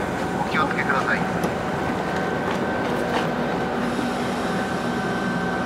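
An express train sits at a station platform, giving a continuous low rumble with a faint steady whine, heard under distant station ambience.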